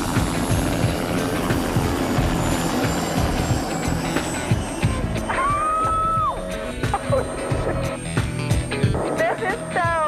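A helicopter in flight gives a loud, continuous rotor and engine drone heard from on board during a ride, with faint voices and scattered tones under the steady noise.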